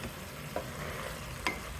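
Vegetable pieces and tomatoes frying for instant sambar, a soft steady sizzle with two small clinks of a spoon or utensil, quiet and close, no talking.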